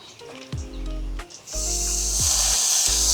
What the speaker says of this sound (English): So now we are ready to put this in the grill.